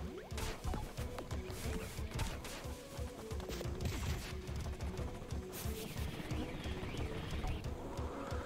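Galloping horse in the video game Pizza Tower, a rapid clip-clop of hooves driving steadily through the whole stretch amid busy game music and crashing effects.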